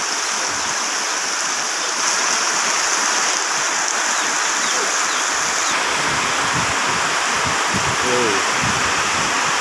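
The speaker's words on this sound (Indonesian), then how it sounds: "Sudah turun hujan kawan-kawan." Heavy rain pours steadily in a village, a dense continuous hiss of water like a rushing stream, loud and close throughout, with faint bird-like chirps near the end.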